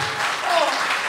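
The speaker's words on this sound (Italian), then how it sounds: "Punto, applauso." A studio audience at a comedy show breaks into applause, a brief, loud burst of clapping with a faint murmur mixed in.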